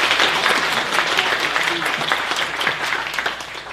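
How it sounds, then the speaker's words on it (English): Loud, dense applause fills a hall at the 2018 West Covina State of the City event, continuous clapping from a large crowd that holds steady and then slightly tapers. "let's give them a round of applause"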